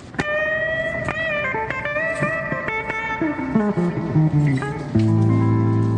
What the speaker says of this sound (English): Stilettos sound like this.